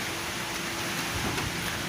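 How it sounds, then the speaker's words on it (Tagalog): Heavy rain from a tropical storm in the Bicol region of the Philippines pours down in a dense, continuous roar. It holds steady and loud, with a faint low rumble underneath and no one speaking. "Lumalakas na po yung ulan."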